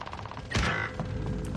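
Call of Duty: Warzone gunfire plays as a quick run of rapid mechanical shots, followed by a louder, denser burst.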